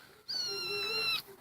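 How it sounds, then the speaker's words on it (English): A kitten at a homestead gives a single clear, high meow, held for about a second against quiet surroundings. "Oh, kitten."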